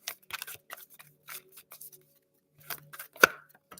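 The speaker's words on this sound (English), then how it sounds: "Let's continue to shuffle here." Deck of cards being shuffled close by, a series of quick crisp riffling and snapping bursts separated by short pauses, with no talking.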